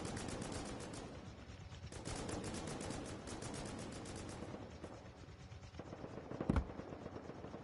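Rapid machine-gun fire from a Chinook helicopter in the video game Rust rattles on continuously, a dense steady stream of shots with one sharper crack near the end.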